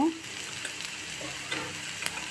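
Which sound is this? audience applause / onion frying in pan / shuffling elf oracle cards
onion frying in pan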